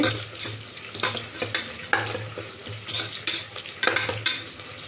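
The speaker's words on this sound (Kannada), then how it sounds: "ನಾನು ಚಚ್ಚಿಟ್ಕೊಂಡಿರೋ ಶುಂಠಿ ಮತ್ತು ಬೆಳ್ಳುಳ್ಳಿ ಮತ್ತು ಹಸಿಮೆಣ್ಸಿನ್ಕಾಯಿ ಇದು ಸ್ವಲ್ಪ ಫ್ರೈ ಆಗಲಿ" Crushed ginger, garlic and green chilli fry with onions for a chicken gravy, a close, continuous sizzle broken by repeated scraping stirs of a spoon against the pan.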